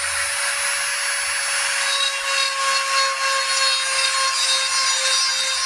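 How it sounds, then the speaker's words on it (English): A Dremel rotary tool on high speed grinding away wood on a bathroom vanity, a steady high-pitched whine with a constant abrasive rasp, close and loud throughout with no talk. "So I've got my Dremel tool, put it on high speed."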